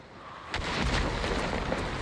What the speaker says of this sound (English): I'm just going to toss a normal nade right here.